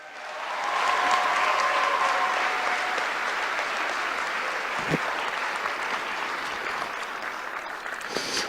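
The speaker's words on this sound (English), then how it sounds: "Let's give them a big round of applause." Audience at a robotics championship opening ceremony applauding sponsors, a steady wash of many hands clapping that swells early and tapers slowly, heard from within the crowd.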